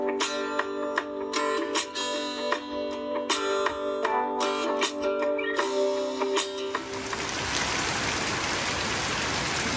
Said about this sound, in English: You can see the water coming from my roof.